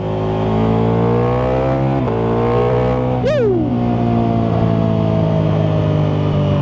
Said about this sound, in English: The roar of this straight through Akrapovic exhaust on the Pikes Peak.